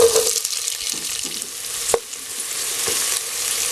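Chopped onion sizzles steadily in hot oil with browned garlic in a pan while cooking pancit palabok, with a constant hiss, occasional stirring clatters and a sharp utensil tap partway through.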